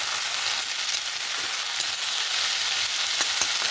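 Vegetables sauté in hot oil in a pan, a continuous bright hissing sizzle with faint scattered ticks and crackles, steady and alone.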